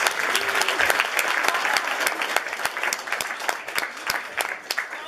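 A comedy club audience at Yuk Yuk's applauds a comedian taking the stage, giving dense, steady clapping that fills the room for several seconds and thins slightly toward the end.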